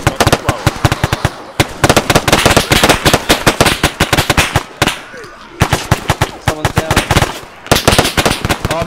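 Gunfire in the military game ArmA 3: loud, close bursts of rapid automatic shots crackle in tight volleys, broken by a few brief lulls.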